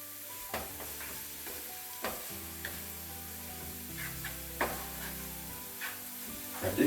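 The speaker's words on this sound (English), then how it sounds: "Just keep stirring it up so we can get the vegetables mixed in." Vegetables fry in a pan and are stirred, with a steady sizzle and occasional clicks of a utensil against the pan, close and moderately loud, with no talking.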